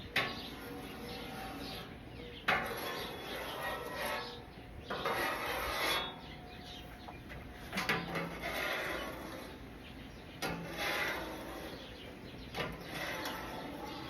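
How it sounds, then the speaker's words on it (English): A metal scraper drawn lightly across a Blackstone griddle to spread oil gives repeated raspy rubbing strokes, close and fairly quiet, with sharp scrapes at the start of each pass. "And I'm not scraping it hard. I'm just making contact with the griddle just to get that oil spread out."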